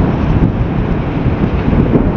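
Strong wind at Kanyakumari among many windmills: steady loud buffeting roar with dense low rumble, continuous throughout with no voices.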